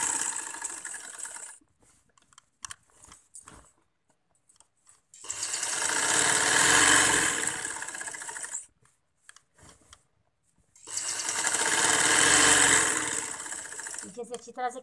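A sewing machine runs in two long bursts of several seconds each, separated by quiet pauses with handling clicks, while stitching elastic onto a trouser waistband; the motor whirs steadily and close.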